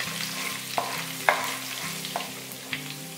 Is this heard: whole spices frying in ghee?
yes